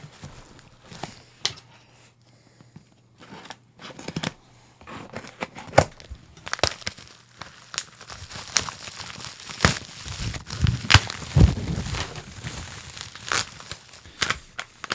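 Rustling and crinkling of wrapping as a rare-book package is cut open with scissors, with sharp snips, paper tearing and crackling handling noises that start sparse and become busier and louder, close up with no talking.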